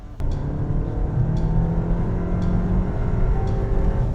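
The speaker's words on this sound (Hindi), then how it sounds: "See, I can listen to the engine." A Volkswagen Tayron R-Line SUV engine under hard acceleration, a close, steady low rumble and rising whir heard from inside the cabin, continuous and fairly loud, with faint periodic clicks and no talking.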